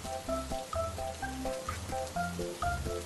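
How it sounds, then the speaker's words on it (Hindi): Steady rain hisses through a street scene, a constant wash of falling drops lying beneath a bright, plucky melody that plays over it throughout. "3 दिन से लगातार बारिश रुकने का नाम नहीं ले रही है।"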